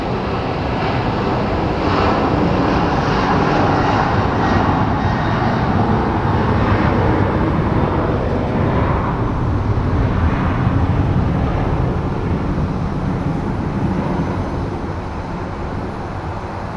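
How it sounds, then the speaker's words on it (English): Southwest Airlines Boeing 737 departing from Phoenix Sky Harbor airport: a loud, steady jet engine roar holding for the whole stretch and easing slightly toward the end, with no voices. "We have a Southwest Airlines departing for Denver,"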